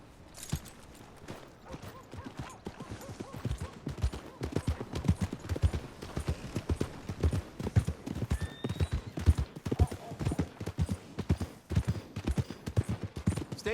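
Horse hooves clip-clopping in Red Dead Redemption 2, a steady run of dense, fast hoofbeats throughout, with brief distant gunfire-like cracks and a voice speaking over parts of it.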